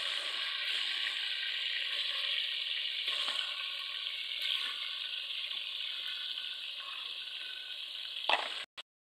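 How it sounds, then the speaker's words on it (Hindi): Chicken sizzles in hot ghee with a loud, steady, dense crackle close by, faint stirring scrapes underneath, ending with a sharp clatter before it cuts off. "अब इसको अच्छी तरह फ्राई कर लेते हैं।"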